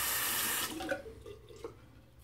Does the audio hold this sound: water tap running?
yes